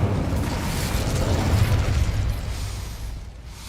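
Hogwarts Legacy spellcasting, including Incendio, bursts out as a loud, dense whooshing blast that rumbles steadily and fades slightly toward the end, with no talking.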